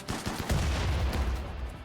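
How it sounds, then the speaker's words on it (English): A huge explosion from an explosive zombie blowing up in the RimWorld video game, a dense burst of booming, crackling blasts that rolls on loudly for about two seconds with no talking. "Wow, that is an enormous explosion."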